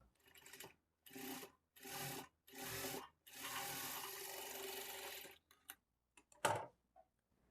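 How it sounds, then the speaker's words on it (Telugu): Sewing machine stitching a lining blouse with a quarter-inch margin: several short whirring bursts of needle running, close but quiet, separated by pauses, then a longer continuous run and a few clicks. "ఇప్పుడు మరలా 1/4 ఇంచ్ మార్జిన్తో ఇంకొక స్టిచ్ వేసుకోవాలి"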